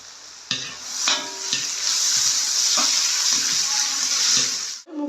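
Onions and paste are sautéed in a pan for a Jaffna-style chicken curry, making a steady, close sizzling hiss with scraping stir strokes and brief clatters throughout.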